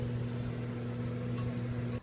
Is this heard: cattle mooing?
no